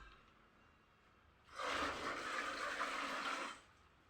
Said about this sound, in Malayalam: അതുകൊണ്ടാണ് ഞങ്ങൾ അതിക്കാണ് വെള്ളം ഒഴിച്ച് കൊടുക്കുന്നത്